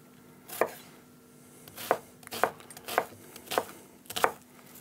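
A shallot is chopped into small, fine dice on a board, six sharp knife strikes at an uneven pace, close and clear with no talking.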